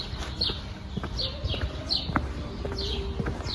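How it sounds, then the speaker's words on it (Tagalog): Noisy birds outdoors give short chirps about four times, repeating at a steady pace over a constant hum of background noise. A few faint knocks and taps are mixed in, and no one speaks. "Mga ibon lang talaga maingay dito."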